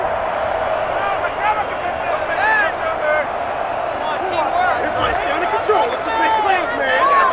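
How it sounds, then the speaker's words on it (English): Stadium crowd reacting to a penalty call in a Madden NFL 21 football game, a broad continuous roar of murmuring and jeering spectators under a voice that talks throughout. "this crowd does not like that call"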